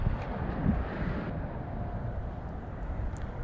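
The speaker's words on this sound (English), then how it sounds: "Just stop being windy for like 1 hour." Strong wind buffets a microphone during bluegill fishing, a constant loud low rumble and rush that stays steady throughout with no speech.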